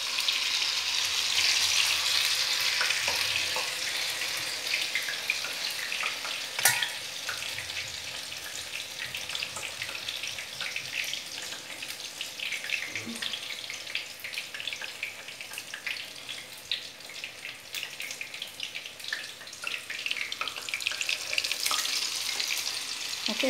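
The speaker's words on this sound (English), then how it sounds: "Take out the excess one from both the sides and put it in hot oil." Batter-dipped pumpkin flower pakoras frying in hot oil, a close, steady crackling sizzle with bursts of popping that continues throughout.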